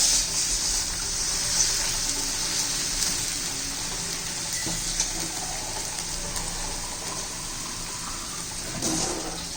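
Water pouring into a pan of sautéed onion greens for besan, a steady gushing rush with a bubbling sizzle, close and fairly even, ending with a brief surge.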